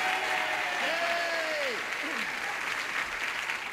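A 1974 game show studio audience applauds and cheers in a loud, steady wash of clapping lasting the whole stretch, with a voice briefly rising over it.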